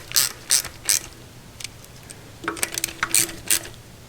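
A ratchet clicks in short bursts while tightening bolts on a Royal Enfield Himalayan motorcycle, with three quick cranks, a pause, then a faster run of clicks, all close and distinct with no talk.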